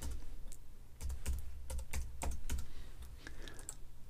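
Someone types a layer name on a computer keyboard in a quick, irregular burst of close, crisp key clicks with short pauses between keystrokes, and no voices.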